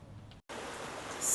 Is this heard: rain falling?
yes